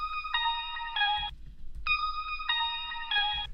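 A plucky synth lead from a pluggnb beat, heard without EQ, plays two repeated phrases of bright bell-like plucked notes separated by a brief gap, with low murmur underneath and no voices.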